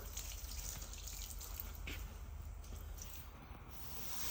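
Water from a hose runs steadily onto a floor that is being wetted down before spray painting, a soft, continuous hiss and patter with a faint splash in the middle, close but quiet, and no one speaking.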